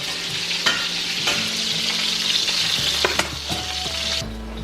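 Chicken parm frying in a pan, a constant close sizzle with bursts of crackling and a few sharp clicks and knocks from handling, no voices present.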